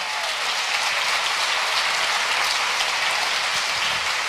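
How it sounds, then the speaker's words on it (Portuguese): Church congregation giving a sustained, loud applause after a sermon passage, a dense even roar of many clapping hands with no talking. "Forte esse aplauso à palavra do Senhor."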